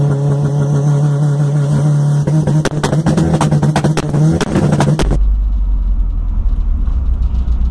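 The original 1.6 AP alcohol engine of a 1985 Volkswagen Voyage runs close by, with a loud steady drone and a few revving pulses, then cuts to a deep low rumble.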